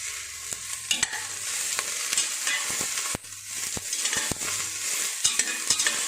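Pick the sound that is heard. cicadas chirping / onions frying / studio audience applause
onions frying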